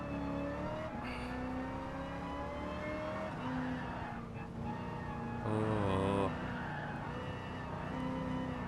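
A race car in Gran Turismo Sport with its rear end sliding out, a loud steady engine drone with shifting revs and a brief screech, and a short exclamation from a player.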